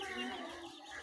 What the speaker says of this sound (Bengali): এটা আমাদের মোরগ, একটাই মোরগ